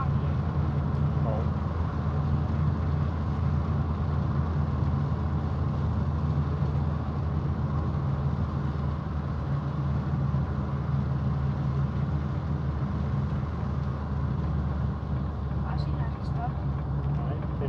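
A 1975 VW Passat drives along, its engine and road noise a steady, close, low rumble inside the cabin, with occupants speaking over it at times.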